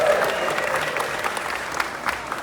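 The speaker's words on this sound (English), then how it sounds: "Give yourselves a round of applause." An evening audience claps at a Six Flags Over Texas announcement event in the renovated Southern Palace hall, a full, sustained round of applause filling the room from start to finish.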